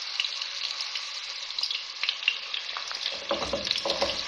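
Potatoes lightly frying in a pan give a soft, continuous crackling sizzle, joined near the end by low thuds and rustling as more vegetables are tipped in.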